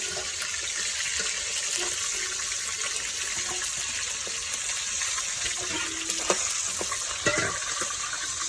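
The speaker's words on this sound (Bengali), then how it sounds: "মাংসগুলো ভালো করে ভেজে নামিয়ে নিলাম।" Chicken pieces for a chicken roast fry in a pan with a steady, busy sizzle, broken by a few sharp clinks and stirring knocks, and no one talks.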